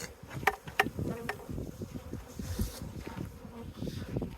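Honeybees from a nuc box being shaken into a Langstroth hive, a dense, steady swarm buzz with a few sharp knocks and thumps from the shaking frames early on, close and continuous throughout.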